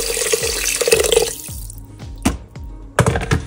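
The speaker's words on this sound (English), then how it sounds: "Now I'm adding about 2 to 3 cups of water." Water runs from a tap and splashes into a cooking pot holding chicken bouillon, with a few clunks and knocks of the pot being handled near the mic.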